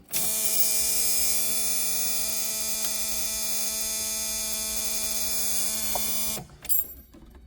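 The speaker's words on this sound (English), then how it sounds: "Antenna, power antenna is going up." The power antenna motor on a Mercedes-Benz 280SL whirs steadily as the antenna rises, a loud, even electric hum that runs for about six seconds before stopping abruptly with a small clunk.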